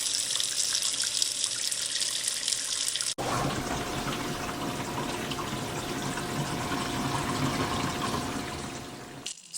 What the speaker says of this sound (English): run water to check for leaks